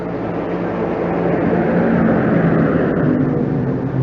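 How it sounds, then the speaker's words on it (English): A family pickup truck roars by on a street in Juneau, Alaska, a steady, loud, broadband engine and road rumble that swells slightly in the middle as it passes close. "And there goes a family pickup truck roaring by."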